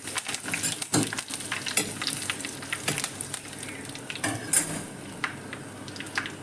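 Mustard seeds, dried chillies and curry leaves temper in hot oil, a continuous close sizzle with scattered pops and crackles, plus occasional clinks of a spoon against the pan.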